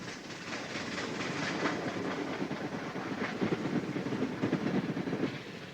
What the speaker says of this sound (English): A Streamline Pacific heads a passenger train out of Milwaukee.